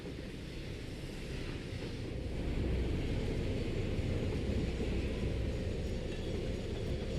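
A train arrives in a factory-building video game, a low continuous rumble that swells and grows louder midway, then holds steady with no talk over it.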